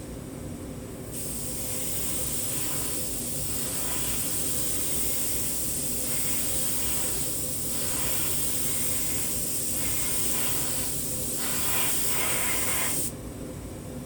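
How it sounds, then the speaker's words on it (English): Dual-action airbrush spraying thinned acrylic paint gives a steady, close hiss that runs for about twelve seconds, with small pulses as the flow is adjusted, then cuts off. "With the dual action airbrush, I can adjust how much paint comes out."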